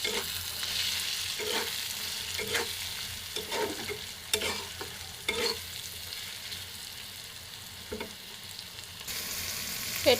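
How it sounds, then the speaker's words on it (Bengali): Salt and cumin powder frying in a pan, a soft steady sizzle underneath with occasional scraping stirs of a spatula at irregular intervals, fairly quiet and close. "লবণ জিরার গুঁড়া এটাকে আরও কিছুক্ষণ ভেজে নেব"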